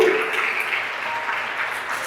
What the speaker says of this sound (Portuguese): aplauda Ele com toda a força